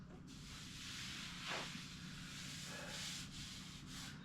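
Coarse 80-grit paper rubs over black car paint in steady strokes, a broad dry scratchy hiss with one sharper swipe midway, close and continuous.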